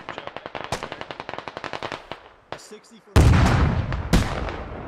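Gunfire in the military shooter game Squad: a rapid run of machine-gun shots, then a pause and a heavy, loud rumbling barrage of fire and blasts.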